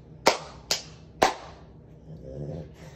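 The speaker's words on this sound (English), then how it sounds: "we'll clap, and then see who claps the loudest" Children clap their hands one at a time against a wall indoors, three sharp, close claps in quick succession followed by quiet room noise.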